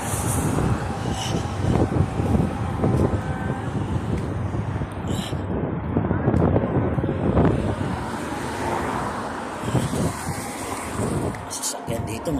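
Wind blowing across a wide multi-lane road with fast-moving traffic, a constant rough roar buffeting the microphone throughout, with a person talking over it.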